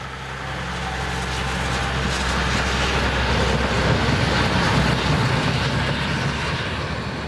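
Narrow-gauge train pulled by diesel-hydraulic locomotive 119.018 departs Zittau Süd heading toward Bertsdorf, a steady rising engine drone and rolling rumble that swells gradually and holds loud for several seconds with no talk.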